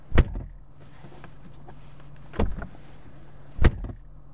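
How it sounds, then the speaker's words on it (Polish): A BMW 1 Series door shuts with a heavy thud, then two more solid door closings follow a couple of seconds apart over a quiet low hum. "No nie tak powinny się zamykać drzwi w klasie premium."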